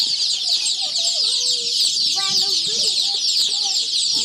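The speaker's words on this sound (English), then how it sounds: "The sound the chicks are making upon arrival." Newly arrived chicks in a brooder cheep in thin, high, wavering calls over a constant loud hiss, with a few sharp peeps standing out near the middle and no voices.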